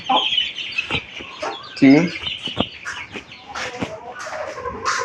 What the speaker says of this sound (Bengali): এই যে আমার 10টা বাচ্চালা দেশি মুরগিটা আলহামদুলিল্লাহ সুস্থ আছে